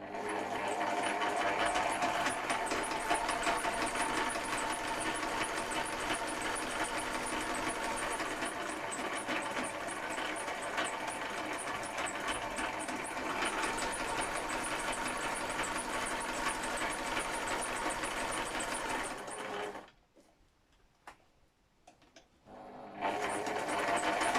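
Sewing machine stitching folded journal pages, a steady fast mechanical whirring and clatter running continuously for about twenty seconds, then stopping abruptly before a brief restart at the end.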